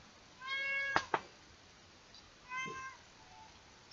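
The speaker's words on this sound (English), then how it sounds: "And of course, you can hear my cat" A domestic cat meows indoors, two separate drawn-out calls about a second and a half apart, each followed by a short sharp sound, heard clearly against a quiet room.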